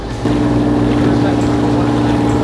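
A boat engine, a motorboat running against a 3-knot current on the way into Charleston Bay, opens up to full throttle. It swells quickly into a loud, steady, droning roar with strong low harmonics, and wind buffets the microphone throughout.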